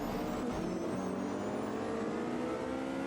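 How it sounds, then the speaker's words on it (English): A Porsche flat-six race car screams at high revs in a racing video game set on the Monaco circuit, its engine note a sustained, rising wail echoing through a tunnel, loud and constant with no voices. "those Porsches sound so good. That flat 6 absolutely launching, screaming through the tunnel"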